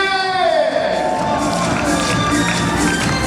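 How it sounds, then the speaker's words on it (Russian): Audience applause and cheering for a prize winner at a children's day concert, a loud, lively crowd burst that swells after a sustained voice fades at the start. "Аплодисменты!"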